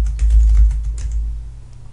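Keys on a computer keyboard clatter in a quick, close burst of taps over a low background hum, with the typing thinning out near the end.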